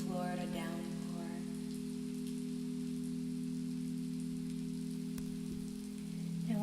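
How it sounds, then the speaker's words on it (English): Recorded Florida downpour used as background, a soft, steady hiss of falling rain under a sustained low humming drone, with a brief voice at the start. "some beautiful background sound of a really beautiful Florida downpour"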